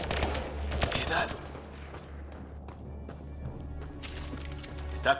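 Gunfire bursts in the sci-fi shooter game Mass Effect Andromeda, loud and dense at first with sharp cracks, then thinning to scattered shots over a steady low rumble, with another burst near the end.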